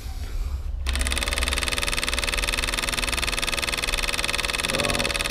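A small solenoid engine built for an RC boat runs steadily, its cam firing the coil in a fast, even buzzing rhythm as it spins a little propeller, loud and close throughout after a brief quiet start.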